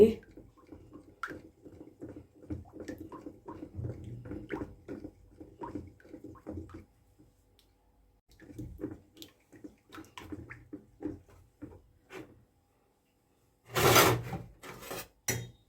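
A spoon scrapes and churns through a thick homemade soap mix of used cooking oil and lemon peel, giving irregular close rubbing and sloshing strokes in bursts with pauses between, ending in a louder scrape.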